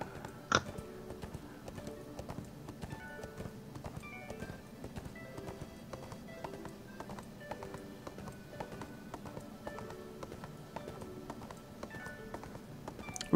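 Steady clip-clop of horse hooves in the video game ArcheAge, an even rhythmic tapping that carries on throughout at moderate level, with a sharper knock near the start and soft game ambience beneath.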